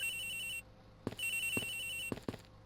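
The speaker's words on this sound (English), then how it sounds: "The ringing's coming from somewhere in here, sir!" A telephone rings in the Ace Attorney Investigations video game, a steady electronic tone that cuts off and then returns, punctuated by several sharp thumps as it repeats.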